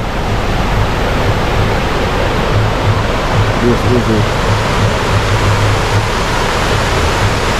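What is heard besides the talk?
waterfall at Cane River Falls, Jamaica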